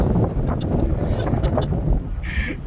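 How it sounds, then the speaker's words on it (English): Wind buffets the microphone outdoors in the Annapolis Valley in fall, a constant loud low rumble with faint traffic noise in the background and a brief higher sound near the end. "Sorry about the traffic noise and the wind."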